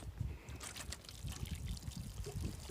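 Water pours and trickles steadily over seedling transplants in a tray, a continuous close splashing wash with uneven surges throughout.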